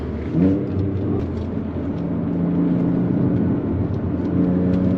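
A 3.2-litre V6 GT car accelerates hard on an unrestricted autobahn, its engine droning steadily with rising harmonics under constant road and wind roar, recorded from inside the cabin.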